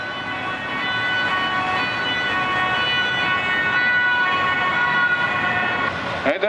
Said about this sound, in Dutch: ik stop even, want er komt een ambulance aan.